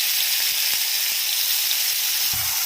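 Onions and green chillies sizzle steadily in hot oil in a pan, a close, continuous frying hiss with a few faint ticks and pops.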